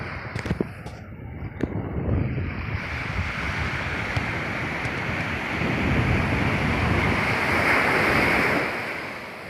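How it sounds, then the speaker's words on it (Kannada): Sea waves surge and wash continuously onto Kalapathar beach, a broad steady roar of surf with wind noise buffeting the microphone, swelling louder toward the end. "ಈ ಕಡೆ ಎಲ್ಲ ಸಮುದ್ರ ಇದೆ"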